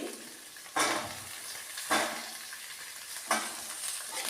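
Onions frying in a pan give a steady sizzle, broken by three sharp scraping stirs spaced about a second apart, close and fairly quiet, with no talk.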